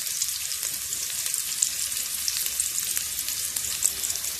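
Garlic stir-fries in a pan with oil for pak choi with oyster sauce, giving a loud, continuous crackling sizzle with no talking.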